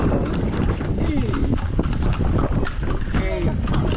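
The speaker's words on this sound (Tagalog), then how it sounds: "Sakay kami kabayo, mga kasari-sari." Horse hooves clip-clopping during a ride in Ilocos, a steady rhythmic run of close hoofbeats mixed with outdoor noise, with people talking over it throughout.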